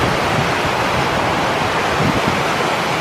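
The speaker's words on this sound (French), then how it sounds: "Donc c'est le vent qui s'engouffre." Wind rushes through a gap in the Hautes-Alpes mountains with a loud, continuous roar like a waterfall, steady and unbroken with no voices.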